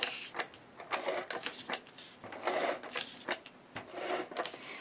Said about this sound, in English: So I'll just use my ATG gun for this.